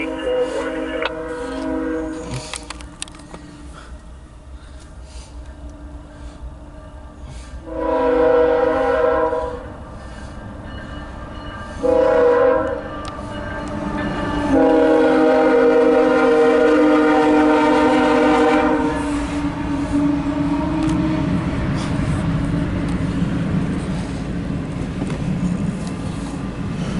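A CSX Q031-10 intermodal freight train rolls past on the westbound track, its loud air horn sounding in several blasts over a continuous heavy rumble of passing cars.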